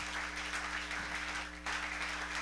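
Church congregation applause at a Spanish-language service, a steady wash of clapping from many hands over a low hum, briefly dipping midway before swelling again.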